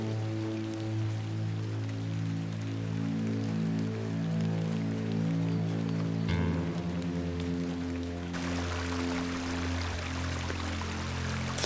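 Rain falling steadily in the video game The Excavation of Hob's Barrow, a continuous wash of drops over a low musical drone, with the texture shifting and brightening partway through; no talking.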